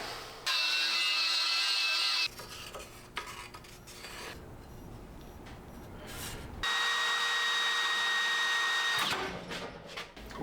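A power drill whines steadily in two long bursts with a rougher grinding stretch between them as the bit bends, close and loud, no voices, while building a custom dash for a Suzuki Samurai buggy.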